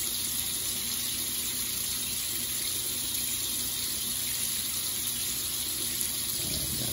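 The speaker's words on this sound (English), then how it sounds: "Let's just rinse this here." Running water from a tap pours steadily over a badger-hair shaving brush as it is rinsed, a close, constant splashing hiss that stops abruptly just before the end.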